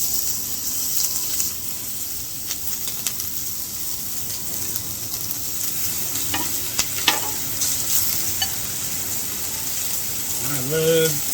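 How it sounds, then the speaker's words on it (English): Leftover carnitas fry on an outdoor Blackstone griddle with a steady, close crackling sizzle, joined by occasional scraping of a spatula and a brief voice near the end. "I love getting a little char on my carnitas afterwards."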